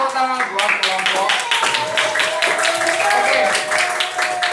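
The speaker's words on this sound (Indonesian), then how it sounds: "tepuk tangan buat kelompok" A class of primary school children claps for a student group, a dense burst of hand claps mixed with bright young voices calling out over it, loud and close throughout.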